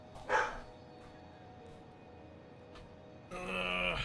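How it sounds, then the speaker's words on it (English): A dog barking indoors, a couple of short, moderately distant barks separated by quiet room tone, followed by a louder, longer bark or whine at the end. "I hear the barking"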